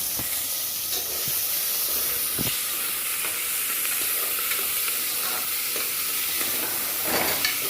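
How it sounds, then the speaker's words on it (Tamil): Big and small onions sautéing in a pan for a Tirunelveli-style mutton lung curry, with a dense, steady sizzle and hiss and occasional soft stirring scrapes, close by. "இது நல்லா வதக்கி விடணும்"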